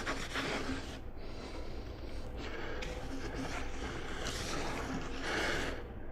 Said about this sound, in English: what we want to do is to lube this side right here up so that we can get it down over the wheel easy